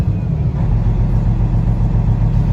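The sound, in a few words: Peterbilt 388 glider kit truck engine running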